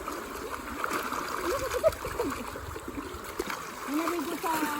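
Splashing and trickling river water as people bathe in a river, with continuous flowing stream sound and intermittent splashes; voices talk over it throughout.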